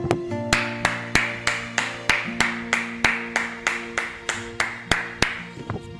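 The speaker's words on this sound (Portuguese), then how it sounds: "vamos glorificar o Senhor com palmas" Church congregation clapping in a steady, even beat, about two to three claps per second, over a held organ-like chord, with no talking.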